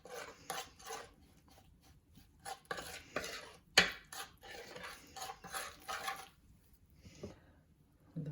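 Lamb tagine marinade stirred in a bowl, with a series of scraping, clinking strokes as a utensil knocks against the dish, steady and close with a few sharper taps, no talking.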